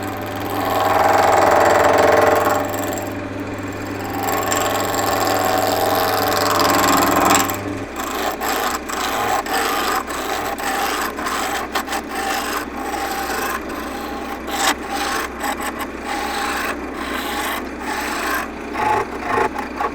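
Wood spinning on a lathe is trued up for a striped egg cup, a loud steady rasping cut for the first eight seconds, then lighter scraping and intermittent tool contact over the running motor hum.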